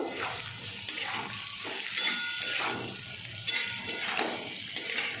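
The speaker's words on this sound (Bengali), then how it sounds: "দিয়ে একটু ভাজা করে নেব।" Vegetables including red capsicum sizzle steadily in a hot pan while a utensil scrapes and stirs them in repeated strokes, with no voices.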